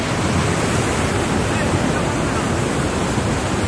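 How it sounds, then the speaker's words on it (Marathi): Water rushing over rocks at a natural pool near Lonavla: a loud, constant broadband roar of flowing stream water, close and unbroken, with no pauses or voices. "समोरच खळखळ असं वाहणारं पाणी"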